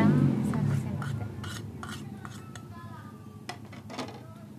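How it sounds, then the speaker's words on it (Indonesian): A utensil scrapes and clinks around a bowl in quick, irregular strokes, close and fairly quiet, as someone mixes round tofu batter with egg yolk, pepper and salt. "Diaduk."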